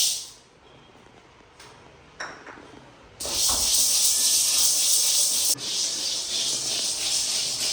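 Black-eyed peas (cowpeas) dry-roasting in a pan, a soft scattered rustle that swells after a few seconds into a steady loud hiss and rattle, continuing with only a brief dip, with no talking.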